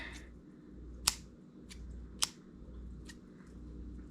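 Scissors snip braided fishing line sharply a few times while tying fishing rigs, two crisp cuts standing out over a low steady hum.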